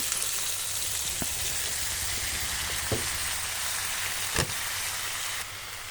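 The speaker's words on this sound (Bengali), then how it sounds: "এবার আমি আস্তে আস্তে এগুলো এখানে দিয়ে নাড়তে থাকবো" Pickle ingredients for a chalta (elephant apple) achar stirred in a hot pan, a soft continuous sizzle with a few sharp scrapes of the spoon against the pan, fairly quiet and with no talking.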